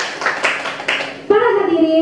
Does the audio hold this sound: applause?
yes